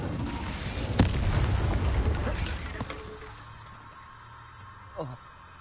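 Spell blasts in a wizard video game: a dense rumbling burst around the first second that decays over a few seconds, with a smaller pop near the end.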